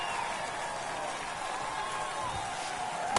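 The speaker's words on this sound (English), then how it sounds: "That should put a jolt into this home crowd." A home crowd at a ballpark cheering a game-tying home run in MLB The Show 2024, a steady distant roar of voices and applause sustained throughout at moderate level.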